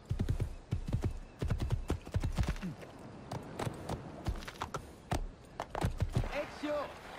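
Hooves of a horse in Assassin's Creed 2 clip-clop in an irregular run of sharp knocks, moderately close, with other game sounds and a voice speaking over parts of it.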